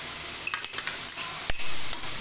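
Chopped carrot, cabbage and onion sizzle in hot oil, a steady close hiss broken by a few quick stirring scrapes over a couple of seconds, with no talk.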